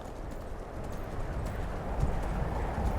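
Horse hooves in the video game Skyrim clop at a steady walking pace over a low rumbling background, soft and continuous without voices.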